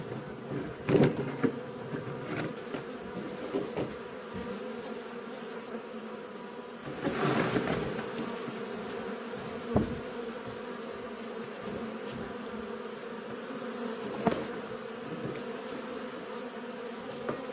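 A mass of honeybees buzzes loudly and continuously as frames are shaken off to boost a weak colony, the drone swelling in sharp bursts around each shake, with no talking heard.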